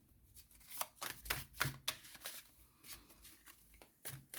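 Tarot cards shuffled by hand at close range, a series of soft riffling and slapping bursts in uneven rhythm, faint and quiet with no talking.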